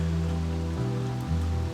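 Steady rain falls on a wetted outdoor camp and tent in a continuous dense wash, close and loud with no pauses, no voices present.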